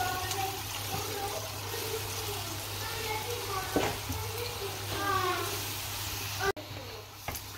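Mushrooms sizzling in a frying pan, a continuous crackle and hiss with stirring clatters, under a voice talking throughout and a sharp knock near the end.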